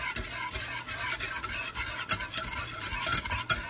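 White sauce with gelatin being stirred in a pan, a spoon scraping and clinking in quick, steady strokes close by, with no talking.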